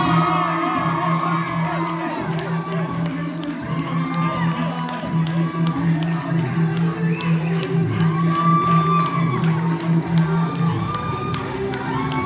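A large crowd cheers, whoops and claps continuously for women being introduced on stage, a dense roar of voices that stays loud and steady throughout.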